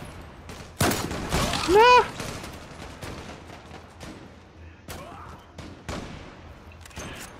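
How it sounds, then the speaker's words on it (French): Gunfire rings out in a Zula online shooter team deathmatch: a loud, dense burst near the start, then scattered sharp shots further off. A player shouts briefly over the firing. "Qui me tire dessus depuis tout à l'heure là?"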